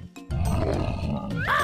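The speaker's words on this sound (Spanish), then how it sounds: "¡Oso!" Bear roaring in a children's animal-sounds vocabulary lesson: one deep, rough, sustained growling roar, close and loud, ending in a rising sound effect.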